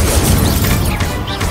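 Incendio fire spell cast in the video game Hogwarts Legacy, a loud, dense burst of roaring, crackling flame noise that fills the whole short moment with no pause.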